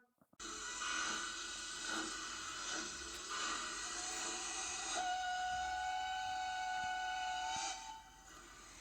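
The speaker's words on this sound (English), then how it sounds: "The train is now leaving the Interpretation Station." A train departs with a sustained whistle blast over rolling rail noise; the tone shifts midway and the whistle holds steady before fading, with no voices.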